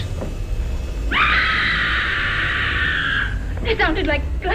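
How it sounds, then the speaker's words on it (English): A woman in a 1960s horror film, Horrors of Spider Island, lets out one long, sustained high scream of about two seconds over a low background hum, followed by someone speaking. "That was a scream."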